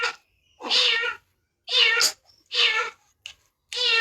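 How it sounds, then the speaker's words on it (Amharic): A distressed cat, apparently with its tail stepped on, lets out four loud, drawn-out plaintive meows in a ragged sequence, close to the listener with short silent gaps between cries. "ምን ሆና ነው ድመቷ ስትጨንቅ?"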